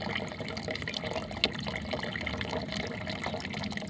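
Water is poured to give a fainted animal a drink, a steady splashing trickle with a small clink partway through, close and moderately loud with no speech.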